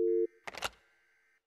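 A telephone call tone in a horror video game, with a steady tone that cuts off, a short burst of clattering noise, then a long thin electronic tone that fades before a brief click.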